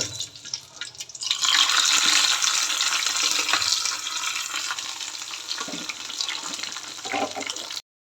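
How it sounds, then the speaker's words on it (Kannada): Hot oil sizzles and crackles steadily as tempering is poured in, a loud, dense frying hiss that settles to a softer sizzle with occasional clinks. "ಒಗ್ಗರಣೆ ಹಾಕಿರೋದನ್ನ ಇವಾಗ ಎತ್ತಾಕ್ತಾ ಇದ್ದೀನಿ ನಾನಿಲ್ಲಿ"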